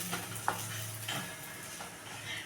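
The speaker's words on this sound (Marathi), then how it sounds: "इथे आपण शेंगदाण्याचं कूट टाकणार आहोत इथं छानसं परतून घ्यायचं" Crushed peanuts are stir-fried in a pan with gram leaves, heard as quiet scraping strokes and a faint sizzle, with a couple of soft utensil taps.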